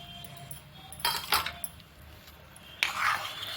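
A spatula scraping and clinking in a pan while misal masala with farsan is sautéed, in two short bursts of stirring over a quiet, faint background.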